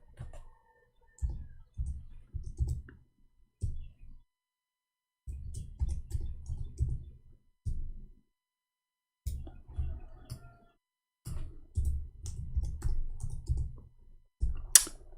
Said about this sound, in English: I hate my keyboard. There's something wrong with it.